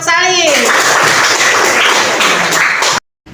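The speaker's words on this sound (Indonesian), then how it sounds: "Tepuk tangan untuk Sali." A classroom of students applauds a classmate, loud dense clapping right after a short spoken cue, running about three seconds before cutting off abruptly.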